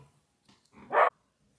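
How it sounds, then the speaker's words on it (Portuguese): A single sharp dog bark, fairly close, after a few faint background noises; quiet otherwise. "O cachorro tava latindo"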